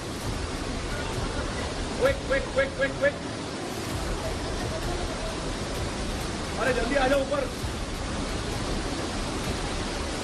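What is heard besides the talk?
floodwater rushing into a basement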